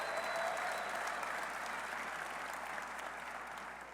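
Steady applause from a press conference audience welcoming a coach back to West Virginia's football program, dense and continuous clapping that fades slightly toward the end.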